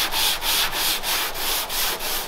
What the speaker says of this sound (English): Just more sanding to do.